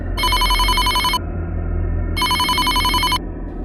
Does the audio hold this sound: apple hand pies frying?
no